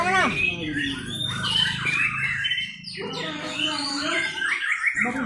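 Competing songbirds sing and chirp loudly at an outdoor bird song contest in Meulaboh, a dense overlapping chorus of trills and squawks with people talking among the crowd.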